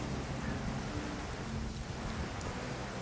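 Constant rain and rolling thunder of a stormy island in the video game Genshin Impact, a dense steady hiss of rainfall with low rumbling underneath, alone without voices.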